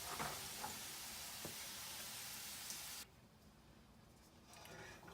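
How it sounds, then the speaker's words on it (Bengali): Potatoes frying in hot oil for a Bengali chhanar dalna curry, giving a steady bright sizzling hiss that suddenly drops away to a much quieter low hiss midway. "আমি আলুগুলো লাল করে ভেজে নিই"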